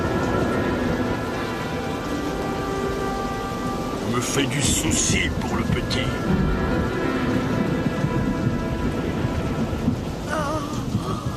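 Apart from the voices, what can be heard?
rain and thunderstorm sound effect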